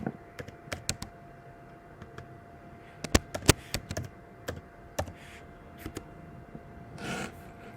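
A computer keyboard is typed on in irregular bursts of sharp, close clicks with brief pauses between them, with a faint steady hum underneath and no talk.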